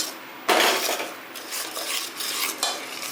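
Gram flour batter for dhokla being stirred and whisked in a bowl, a close series of quick, scraping swishes and clinks of spoon against the vessel, steady and alone with no talk.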